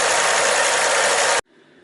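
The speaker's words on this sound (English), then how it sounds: "when this engine is running" A Ford Focus engine idles in a garage during a coolant change, a loud, steady broadband roar that stops abruptly after about a second and a half, leaving a faint residual hum.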